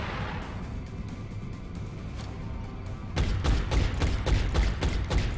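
A burst of rapid gunfire from XCOM soldiers' Overwatch shots erupts midway after a quieter stretch, a dense run of sharp close shots in quick succession.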